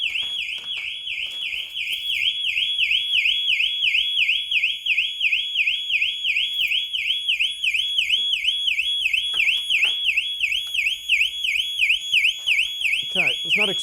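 A loud car alarm on a 2024 Ford Mustang wails nearby in a rapid, repeating warbling pattern, with a few brief knocks and movements underneath.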